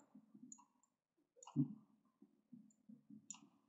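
Computer mouse left-clicking in a quiet room, a handful of soft, close, dry clicks spaced irregularly, with one sharper, louder click partway through.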